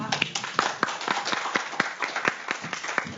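Audience clapping at a Jeju Forum 2017 session on restoring the Hanon crater, with brisk, irregular claps running steadily throughout at moderate volume, without speech.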